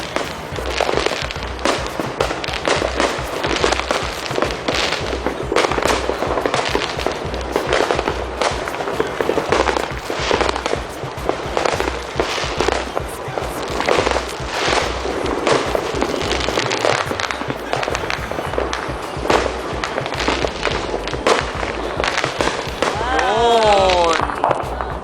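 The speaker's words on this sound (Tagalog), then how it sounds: "Kukunti nga lang ngayong taon ng ating fireworks." A fireworks display bursts almost nonstop with rapid, loud crackling and booming explosions, while people talk and call out over the barrage.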